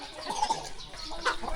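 Village chickens clucking nearby, a few short bursts of clucks and calls scattered over a quiet outdoor background.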